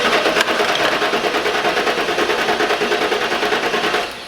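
An LT1 V8 in a fourth-generation Pontiac Trans Am cranks over on the starter during a compression check, a steady rapid rhythmic chugging that runs loud and close for about four seconds, then stops.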